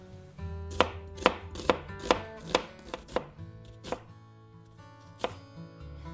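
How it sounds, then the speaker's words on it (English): A peeled onion being chopped with a knife on a board, a close series of about ten sharp thuds in an uneven rhythm with short pauses, faint background music beneath and no speech. "1 onion, peeled and chopped."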